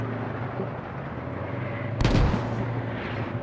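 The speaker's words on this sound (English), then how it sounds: "There are mortar rounds landing near this point." Mortar rounds strike during a video game combat match, a single loud blast near the middle bursting over a steady rumble of distant battle, with no voices.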